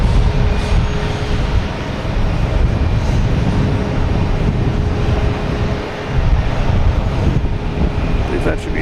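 A Cape Air plane's engines roar on the runway at Boston Logan Airport, a loud, steady broadband rumble with wind buffeting across the whole stretch.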